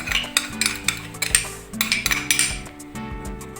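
Utensil mixing in a bowl, with repeated metallic clinks and scrapes at an uneven rhythm, close by, over soft background music.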